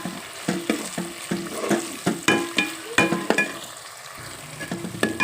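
Green chillies fry in oil in a pan while being stirred, a steady sizzle broken by repeated scraping taps of a utensil against the pan, close and fairly loud with no talk.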